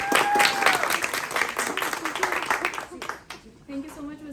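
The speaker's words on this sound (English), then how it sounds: "So let's give her a round of applause." An audience applauds a speaker at a talk event in Jeddah, with a moderately loud burst of clapping that thins and fades over a few seconds, mixed with some cheering, before a voice begins.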